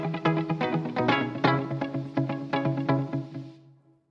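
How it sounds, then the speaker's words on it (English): Electric guitar played through an Eventide PitchFactor harmonizer with echo, strummed notes turned into layered chords with repeating echoes, steady and close for about three and a half seconds before fading out. "what this will do is harmonize whatever I play, and it'll make it into a chord"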